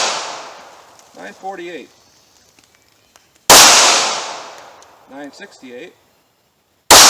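Two sharp 9mm pistol shots fired outdoors over a chronograph about five yards from the target, each a loud broadband crack with a decaying tail, a few seconds apart, with someone briefly speaking between them.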